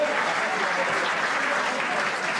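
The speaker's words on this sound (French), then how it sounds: "vous pouvez les applaudir une nouvelle fois dans cette deuxième demi-finale qualificative" A boxing arena audience applauds after a second qualifying semi-final bout in the under-77-kilogram class, with dense, loud, continuous clapping and crowd noise throughout.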